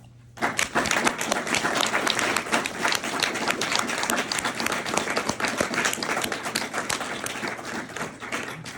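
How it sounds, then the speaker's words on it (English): An audience at a talk by a Freedom Rider bursts into loud, dense applause that starts abruptly and carries on steadily, a sustained roar of many hands clapping close by. "After a round of applause for Peter for sharing his story."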